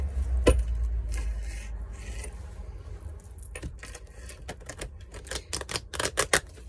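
Tarot cards being shuffled: papery clicks and flutters in scattered bursts, building to a rapid, crackling riffle near the end.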